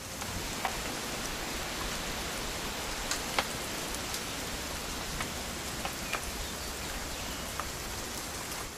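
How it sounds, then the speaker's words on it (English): Rain falls steadily in the video game What Remains of Edith Finch, a soft continuous hiss of drops on surfaces with occasional louder nearby patters, fairly faint and without talk. "It's gonna rain the whole weekend, isn't it?"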